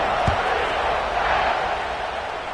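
A steady, distant stadium crowd roar from the College Football 26 video game fills the whole stretch, broad and even, swelling slightly with a brief thump near the start.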